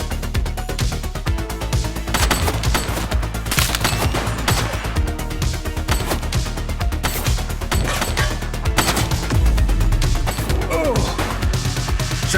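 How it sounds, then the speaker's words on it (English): Dense, rapid gunfire in the video game The Precinct, with repeated sharp shots and bursts rattling continuously at high volume over a low booming background, with brief voices mixed in. "He's shooting!"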